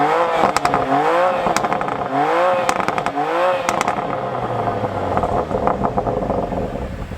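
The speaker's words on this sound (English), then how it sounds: "Just listen how good it sounds, right?" A BMW M2 with its stock exhaust idles loudly at close range during a cold start, with rising and falling revs and sharp crackles from the exhaust, settling into a steady rumble toward the end.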